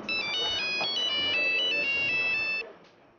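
A mobile phone ringtone plays loudly nearby, a bright repeating electronic melody of stepped tones that runs for about two and a half seconds and then cuts off.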